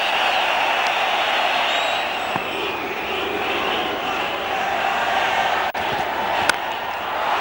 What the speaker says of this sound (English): That'll bring the crowd alive.